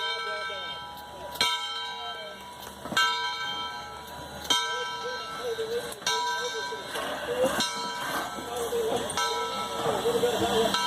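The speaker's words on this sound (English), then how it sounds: "our crew will now begin to pull forward to couple on to the new head of our train" Steam locomotive 630 at a turntable rings its bell in strong, evenly spaced strokes about every second and a half, with the rumble of the train moving beneath, while people talk nearby.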